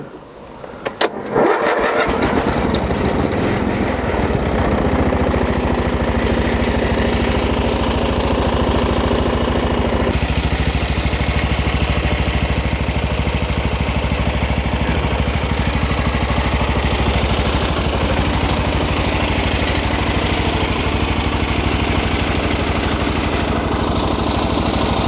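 An old MTD riding mower engine cranks and catches, then settles into a loud, steady, rough idle that runs on for over twenty seconds with a slight shift in tone midway, no talking over it.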